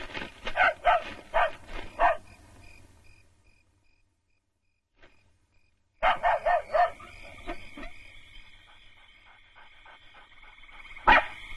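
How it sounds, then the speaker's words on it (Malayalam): A dog barks in quick runs of five or so sharp barks, nearby and loud, then falls silent before barking again and giving one last bark. "വല്ലാതെ കിടന്ന് കുരയ്ക്കുന്നു"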